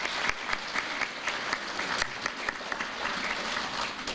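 Women in the audience at a concert clap warmly, a moderately loud applause with some individual claps standing out in an uneven rhythm.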